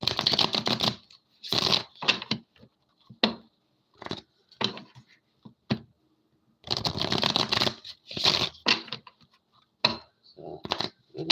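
Tarot cards are shuffled by hand in quick bursts, crisp riffling flutters and sharp taps separated by short silences, loud and close to the listener.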